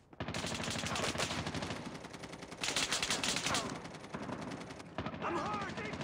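Dense automatic gunfire in the Call of Duty video game on the Nuketown 2 map rattles almost continuously in loud, rapid bursts with brief dips, layered with mechanical clatter.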